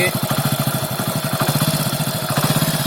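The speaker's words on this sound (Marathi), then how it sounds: "ही मोटरसायकल आहे" A motorcycle parked on its centre stand idles in a steady, close, loud throb of even pulses, run during monsoon-season groundnut harvesting to strip pods from the vines.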